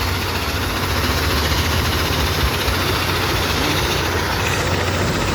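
The vibrating motor of a stone crusher runs beneath a conveyor, giving a loud, steady, droning mechanical rumble with an even industrial hum that holds unchanged throughout.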